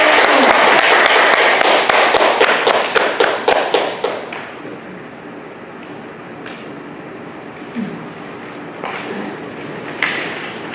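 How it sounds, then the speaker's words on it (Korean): Audience at a Won Buddhist lecture hall in Busan applauding to welcome the lecturer, a dense burst of clapping that thins into scattered claps and fades after about four seconds, followed by quiet room noise and a few stray taps. "큰 박수로 맞이해 주시기 바랍니다"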